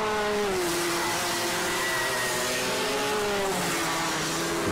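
Racing cars on the final lap of a race, engines screaming loudly and continuously with rising and falling pitch as they pass, a dense roar of motors close by.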